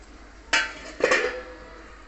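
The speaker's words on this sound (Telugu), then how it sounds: "మూత పెట్టేద్దాం." A lid set onto a cooking pot of moong dal in a home kitchen, two sharp metallic clinks about half a second apart, close by with no talk.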